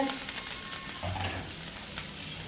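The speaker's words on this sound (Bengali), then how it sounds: "এবার আমি কাঁচা কুচি আর পেঁয়াজ কুচি ভেজে নিয়ে" Chopped green chili and onion fry in a pan with a steady oily sizzle and faint stirring scrapes, heard close and continuous.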